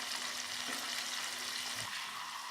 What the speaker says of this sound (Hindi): बोनलेस चिकन जो मैरिनेट करके हमने रखा था और उसको फ्राई करें।